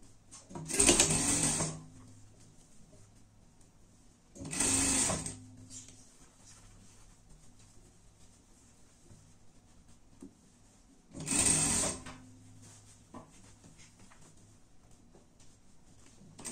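A sewing machine stitches tweed to satin lining in three short bursts of rapid mechanical whirring, each about a second long and separated by quiet pauses.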